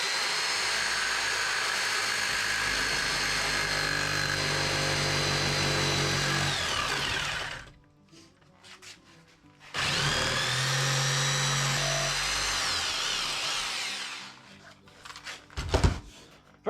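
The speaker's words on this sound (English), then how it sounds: "so I'm going to use my jigsaw for that." A jigsaw cuts a hole in a board for a shopmade fuel dolly, two loud buzzing runs of the blade separated by a short pause, then the saw stops and a few knocks follow.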